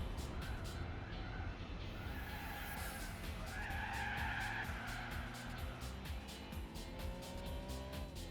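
A Lancia Stratos skids in Gran Turismo 4, tires squealing and screeching repeatedly over a loud racing engine, continuous for several seconds.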